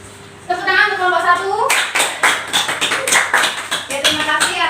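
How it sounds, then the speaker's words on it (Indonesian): Students clap for a presenting group in a classroom, a run of quick hand claps that starts partway in after a voice and carries on steadily to the end, with a voice mixed under it. "Tepuk tangan untuk kelompok"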